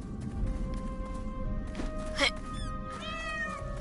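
A cat meows repeatedly over a dense, noisy background, with a louder caterwaul-like cry near the middle and rising meows toward the end, in a Portal Knights gameplay session.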